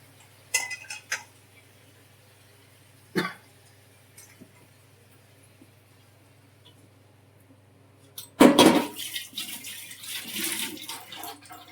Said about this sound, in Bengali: সামান্য একটু জল দিয়ে দেবো